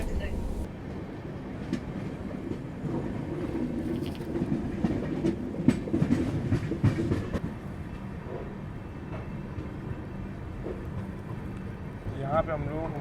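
The Bangalore Rajdhani Express is heard from inside a First AC coach: a muffled, steady rolling rumble with faint rhythmic clatter of the wheels and occasional knocks, while people talk over it.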